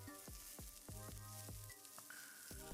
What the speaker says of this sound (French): va rajouter les oignons ensuite et bien remuer pour pas qu'ils s'accrochent à la poêle